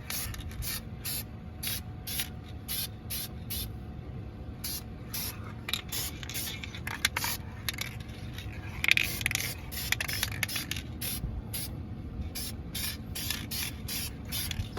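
Aerosol spray can painting rebuilt vehicle brake parts in a garage: repeated short hissing bursts in a steady rhythm, close and fairly loud over a low background hum.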